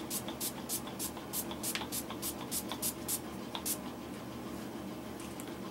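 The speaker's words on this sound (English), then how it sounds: "using a little bit of setting spray, we are going to set this face" A series of short, bright hissing bursts of makeup setting spray in quick succession, fairly close, over a low background hum.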